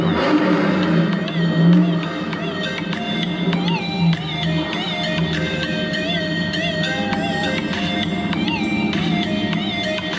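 Chevrolet Corvette engines rumble and rev at a 2021 parade in Carlisle, Pennsylvania, a steady, fairly loud mix of motor drone and whining tones running throughout without pause.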